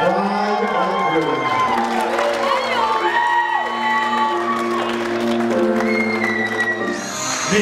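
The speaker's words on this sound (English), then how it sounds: "How about a big, big round of applause for the brand new Bride and Groom." Wedding guests clapping and cheering for the bride and groom, a dense crowd roar with whoops and shouting voices that carries steadily for several seconds.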